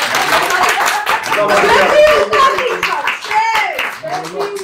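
Studio applause for a podcast host, a short burst of close hand clapping mixed with voices and light laughter from a small group.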